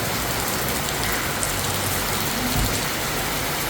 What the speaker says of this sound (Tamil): இன்றைக்கி பாருங்க நல்ல மழை